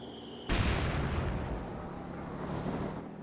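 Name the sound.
mortar and Bofors artillery fire in video game Company of Heroes 2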